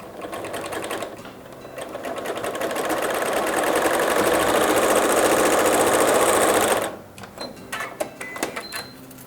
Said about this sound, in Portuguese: Agora a gente vai costurar com um pé de máquina, sempre olhando na lateral do tecido.